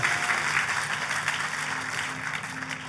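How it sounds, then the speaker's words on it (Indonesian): Dense, steady applause from a church congregation during a worship service, filling the whole stretch loud and close with no voices over it. "Ayo tepuk tangannya lebih meriah lagi buat Tuhan kita."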